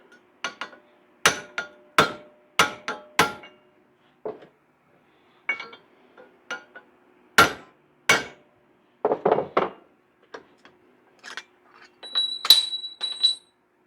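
A hammer strikes a steel frame connector clamped against a steel block in a garage fabrication job for a V8 Celica swap, sharp ringing metallic blows in irregular bursts, loud and close, with no talk.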